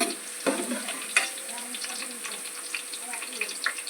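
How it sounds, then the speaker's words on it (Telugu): Onions fry in a pan with a soft, continuous hiss and light crackle, joined by a few brief scrapes and stirring clinks at close range. "ఉల్లిగడ్డలు అయితే ఫ్రై అయినాయి ఫ్రెండ్స్"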